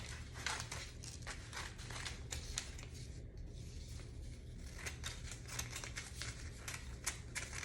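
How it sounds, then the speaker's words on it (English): Scissors snipping through drying material, a steady run of rapid light crisp cuts close up over a low background hum. "And I'm gonna grab my scissors. I'm just gonna cut these."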